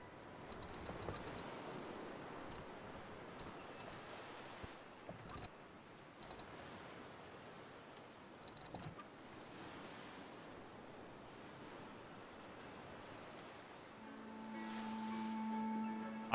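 Ocean water and surf in a Roblox Star Wars game, a continuous washing roar of waves with wind-like rushing, swelling slightly toward the end and joined by a faint tonal hum.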